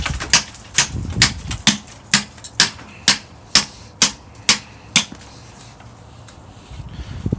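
Steel chisel hammered against lamellar armor plate, about a dozen sharp, loud metallic strikes in a steady rhythm roughly twice per second, then stopping before a quieter tail.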